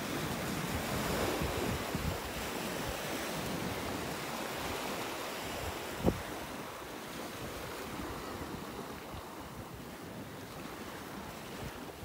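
Ocean surf rolling in at Wiggins Pass beach in North Naples, Florida, a steady washing roar mixed with gusty wind buffeting the microphone, one brief knock partway through, no voices.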